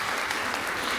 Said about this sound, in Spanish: por favor un aplauso para tus felicidades